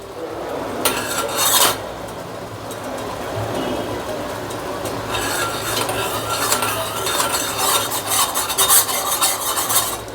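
Strawberry sauce with sugar being stirred in a pan, a spoon scraping and rubbing steadily against the metal with occasional sharper clinks, close and continuous.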